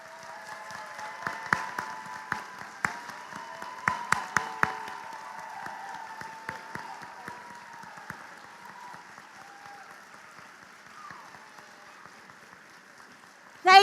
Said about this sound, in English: Now, faculty, please stand and let us recognize and applaud you.